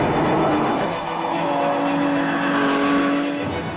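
A loud, brutal Jaguar F-Type sports car driving, a dense continuous engine roar with tonal whine layered over it, steady and close throughout with no pauses.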